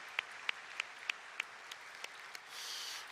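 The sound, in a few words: church congregation applauding the newly baptized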